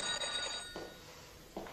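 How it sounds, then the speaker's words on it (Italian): A telephone rings in a room with two short bursts of bell, moderately quiet and alone without voices. "La signorina Cova al telefono"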